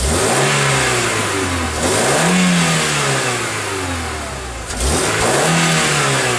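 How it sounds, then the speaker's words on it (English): Car engine revving hard in repeated rising surges as it drives over TSD safety goggles, loud and close with no one talking. "gonna run it over with his car"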